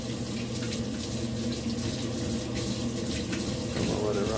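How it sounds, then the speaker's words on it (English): Cold water rushes into a Samsung WA45H7000AW top-load washing machine as a steady, broadband hiss and gush, moderately loud and continuous throughout, with faint machine hum underneath. "Cold water's going in."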